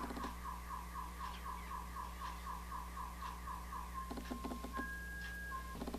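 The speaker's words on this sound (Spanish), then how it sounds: "la alarma de ese carro." A car alarm repeats a rapid cycling electronic tone, then switches to steady beeping and pulsing patterns, faint and distant.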